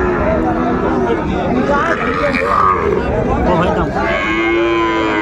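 Bull and heifer calves at the Ambari cattle market in Dinajpur low and moo amid a steady hubbub of crowd chatter, with one clear drawn-out moo rising near the end.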